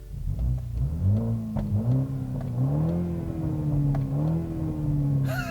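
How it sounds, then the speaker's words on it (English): A BMW X2 M35i with a 4-cylinder engine revs repeatedly, rising and falling, while its exhaust burbles. A crackle of pops comes near the end, close and loud, with no talking. "this thing actually has a nice little burble and pop from the exhaust."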